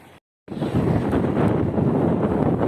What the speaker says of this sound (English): I sought cover here, and still the wind is there